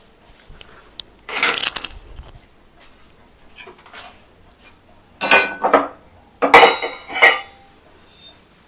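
Roasted urad dal is tipped from one metal pan into another vessel, making several bursts of rattling, clinking metal clatter separated by quiet pauses, close by and without speech.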